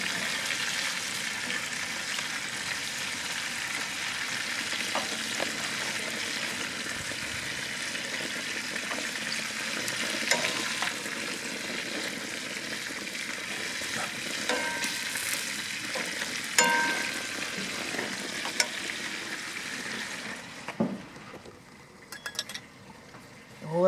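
Onions fry and sizzle steadily in a pan for a sauce at a backyard barbecue, a continuous close crackle with occasional stirring clinks, fading near the end.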